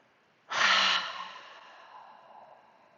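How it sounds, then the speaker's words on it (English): A single deep breath is let out in one strong, breathy exhale that fades gradually, close and alone during a calm yoga flow. "Big full breath in, fill up with as much air as you can, and then exhale it out"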